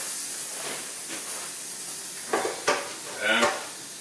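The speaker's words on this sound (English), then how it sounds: "the potatoes has gone in the pressure cooker for about 15 minutes, fizzing away" A pressure cooker with potatoes inside fizzes and hisses steadily, broken by a few sharper bursts of steam toward the end, close and moderately loud with no talking.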